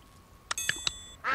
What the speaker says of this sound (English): These ducks just love to eat.